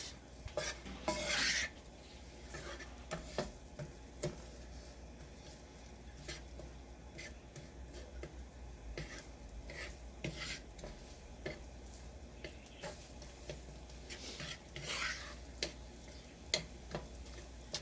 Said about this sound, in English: We're just going to saute these for a little bit. Get all that flavor going in the oil.